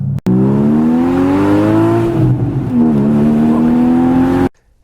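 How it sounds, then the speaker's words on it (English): A 2013 Porsche Boxster S engine revs loud and close, pitch climbing steadily through the gears with short dips at each shift before cutting off abruptly at the end. "today we're driving a 2013 Porsche Boxster S."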